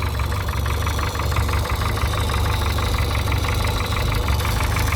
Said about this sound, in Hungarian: Hát így jár ez a kis nevetséges varrógépbe való kis motor.